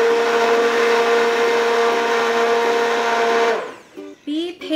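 A blender purées roasted tomato, onion and red pepper soup with a loud, steady whir for about three and a half seconds, then cuts off into short uneven bursts.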